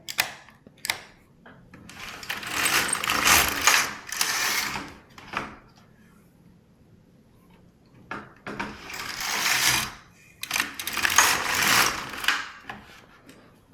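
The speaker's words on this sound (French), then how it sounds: "Je retends un peu le fil et je passe le chariot" An LK150 knitting machine carriage is pushed across the needle bed in several separate passes, each a rasping, clattering mechanical sweep lasting a second or two, with short pauses between them and no talking.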